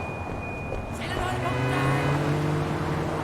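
A car engine in Sleeping Dogs, an old Datsun-like model, revs up with a rising tone after a brief clatter, steady and moderately loud under faint background noise.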